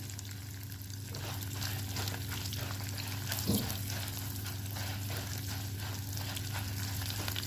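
Green chillies fry in a pan for an instant South Indian chutney, with a soft, continuous sizzle and a faint stirring clink, heard at a low level.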